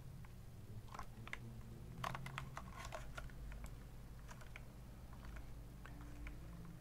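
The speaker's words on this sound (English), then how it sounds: "I like to grab the keyboard and give it a bit of a flex" An Obins Anne Pro 2 Bluetooth 60% RGB keyboard is flexed by hand, making scattered close creaks, ticks and small plastic clicks over a low steady background hum.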